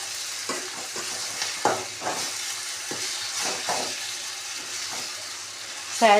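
Dry spices for a dal tadka crackle in hot oil: a steady low sizzle with scattered spoon clinks and stirring knocks, then a sharper metallic clatter at the very end.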